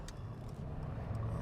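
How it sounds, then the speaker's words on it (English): A 2015 Mercedes-AMG C63 with its 4.0 engine pulls away under acceleration, a steady low burble rumbling close and loud for a brief stretch with no talking. "it takes off, and that sounds, that burble"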